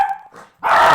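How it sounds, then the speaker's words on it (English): A puppy lets out a couple of quick yips, then a louder, sustained bark up close, with no talking over it. "Pause for puppy."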